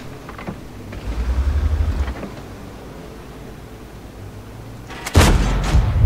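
Low rumbling booms from a video game, with a heavy gunshot blast near the end cutting sharply over the steady background din.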